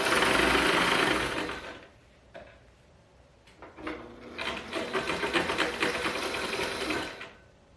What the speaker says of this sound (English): Then I got a little scrap of my dress fabric and did my first test.